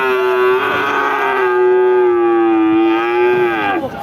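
A cow lows at a livestock market, one long, loud, close moo that holds steady for about four seconds before trailing off, with no other sound competing.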